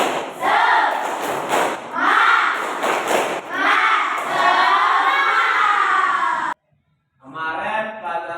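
A class of schoolchildren chants and claps in unison, loud rhythmic bursts of voices and hand claps ringing through a classroom, then a brief silence before another burst of shouting.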